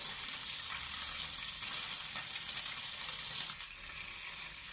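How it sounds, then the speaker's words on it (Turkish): Salmon sizzles steadily in a hot pan, a close, continuous hiss of frying oil that eases slightly near the end. "Deriler biraz kızarınca bu şekilde çeviriyoruz"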